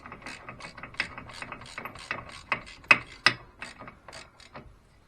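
Ratchet with a 15 mm socket tightening a brake bolt on a Can-Am Maverick side-by-side, a steady run of close, crisp clicking strokes with a few louder snaps near the end.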